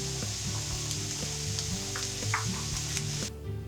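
Vegetables softening in a pan alongside cooking basmati rice, giving a steady, close sizzle and frying crackle with faint stirring clinks throughout, cutting off near the end.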